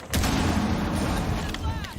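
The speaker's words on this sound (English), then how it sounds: "All these explosions, man" Explosions in the video game Rainbow Six Siege, heavy booming blasts during a competitive match, one after another with rumbling tails under the mix of game noise and background commentary.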